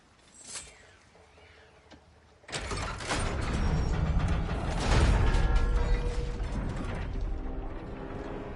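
A mechanism cranked in God of War Ragnarok, a loud sustained ratcheting, creaking and grinding of gears starting abruptly after a quiet opening and continuing to the end.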